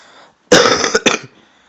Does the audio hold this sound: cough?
yes